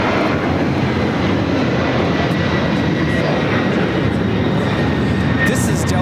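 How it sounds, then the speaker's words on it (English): Delta Airlines Boeing 767-300ER jet taking off from LAX, a loud continuous engine roar with a faint high whine, sustained and steady at close range, with voices talking underneath. "This is Delta Airlines 1377 taking off to JFK on a 767 300 ER"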